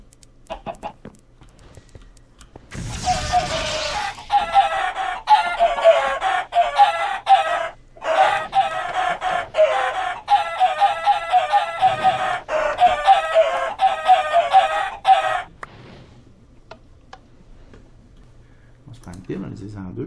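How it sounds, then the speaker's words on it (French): Chickens clucking and a rooster crowing in a video game, a busy run of repeated clucks and calls lasting several seconds, fairly loud, with someone talking around them. "Encore 2 poules là-dedans."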